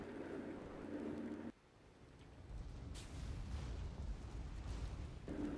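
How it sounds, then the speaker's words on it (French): Explosions in the airship battle game Guns of Icarus Online, heavy rumbling blasts with a sharp cut near two seconds and a bright burst around three, a continuous low roar of combat throughout. "I couldn't hear you over the sound of explosions"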